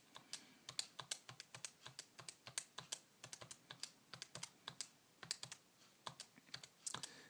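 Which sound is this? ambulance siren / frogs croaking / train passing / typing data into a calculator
typing data into a calculator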